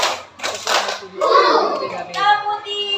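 Primary-school pupils clap together in a classroom counting rhythm, a few sharp hand claps mixed with children's voices chanting along.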